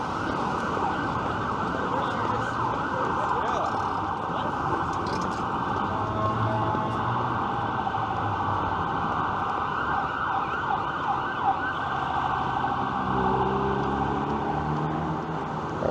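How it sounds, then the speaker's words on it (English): Emergency vehicle sirens, including an ambulance, wail along a busy downtown Toronto street in the Financial District at evening, rising and falling over steady traffic rumble and city noise, moderately distant. "A lot of emergency vehicle sirens."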